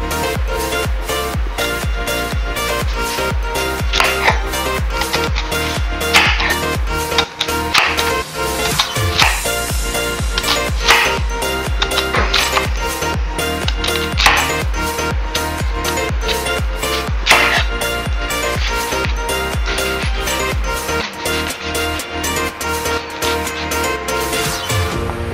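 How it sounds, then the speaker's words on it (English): A knife cuts an onion into small squares on a board, steady rapid chopping taps running throughout, loud and close, with cooking noise underneath. "So we have to cut an onion. So let's cut this onion."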